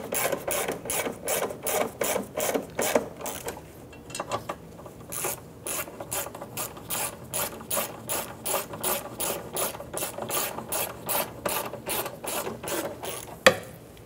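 Metal bolts being threaded and ratcheted in on the front fuel tank straps of a 2011-2019 Ford Explorer 3.5L, heard as steady rapid ratchet clicks in bursts, close up with no talking.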